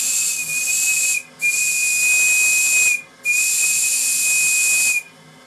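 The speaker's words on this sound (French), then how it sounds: "Et ce sifflet." The steam whistle of the Moulay-Idris, a 1.27 m model steam tugboat, blows three loud, shrill blasts with a hissing edge, separated by short gaps.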